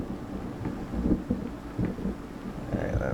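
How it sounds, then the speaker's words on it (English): Heavy rain pounding on a roof during a storm, a steady dense wash of drumming with a few louder thuds, no voices. "It's really hard raining on the roof."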